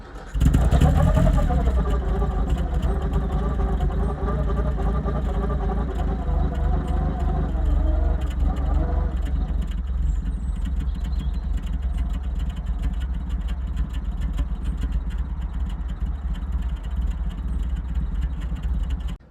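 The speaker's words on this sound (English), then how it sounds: "I'm going to start her up, have a little listen and see what you think." A 1930s Riley 12/4 Kestrel, a pre-war British car, cranks and fires up, then settles into a loud, steady idle with a rough low rumble heard close by.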